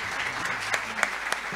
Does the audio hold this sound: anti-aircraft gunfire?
no